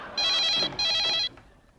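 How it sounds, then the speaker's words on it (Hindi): A telephone ringing indoors: two close, electronic trilling bursts in quick succession with a short gap between them, then silence. "फोन आया है"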